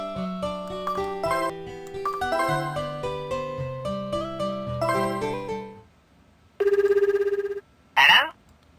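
Electronic phone ring in the video game Tokimeki Memorial Girl's Side 2, a bright repeated trill in two short bursts near the end, after a melodic game music passage fades out.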